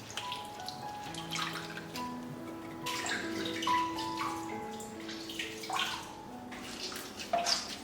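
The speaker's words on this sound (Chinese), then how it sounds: "把它清洗干净，一条条拿出来，然后把叶子抖开，洗去里面的沙尘，再用清水多冲洗2遍" Soaked dried preserved mustard greens, Hakka meigan, are rinsed and shaken under running water in a kitchen, producing close, continuous splashing and gurgling with drips and occasional louder sloshes as the leaves are handled.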